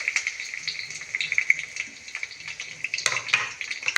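Cumin, mustard seeds and curry leaves sizzle and crackle in hot oil, a bright continuous frying hiss broken by spoon scrapes and metallic clinks against the pan.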